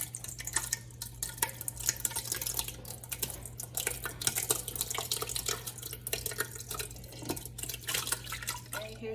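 Whey dripping and trickling from soft goat cheese curds held in cheesecloth, a faint, irregular patter of drops over a low steady hum, with no talk.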